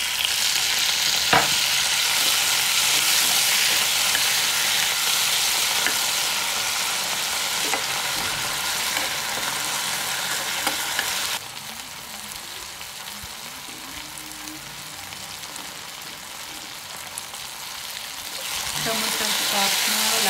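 Onions and freshly added tomatoes fry in a pan for an asparagus curry, producing a constant close sizzle with soft stirring scrapes that drops to a quieter level partway through before rising again near the end.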